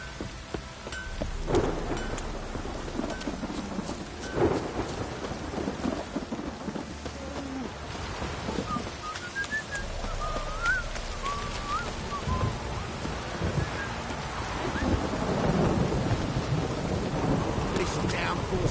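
Heavy downpour in The Witcher 3 during a thunderstorm, dense rain hissing steadily with low rumbles of thunder rolling in and out, and a few faint bird calls above the constant wash.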